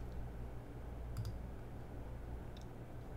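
Two brief, faint computer mouse clicks about a second apart, set against a steady low hum with no talking.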